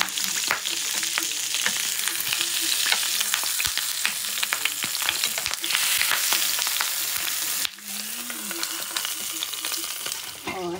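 Eggplant frying in a pan, with constant loud sizzling and frequent sharp spattering pops; the hiss drops a little near the end as the pan noise shifts, with no talking.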